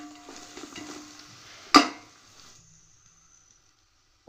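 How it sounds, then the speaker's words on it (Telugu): Prawns coated in masala are stirred in a pan for fried rice, giving soft scraping and squishing, then one sharp clack of the utensil on the pan before near silence. "ఇందులోను ఈ మసాలా అంతా ఈ రొయ్యలకి పట్టేలాగా కలుపుకోవాలండి"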